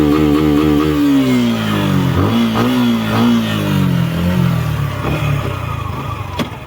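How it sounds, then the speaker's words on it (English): A Suzuki Gixxer SF 150 motorcycle with dual tip exhaust revs up loudly nearby, the engine pitch climbing and falling through several rising and dropping revs over a steady rumbling idle, with a brief click near the end. "The exhaust sound is also good. It comes under the dual tip exhaust."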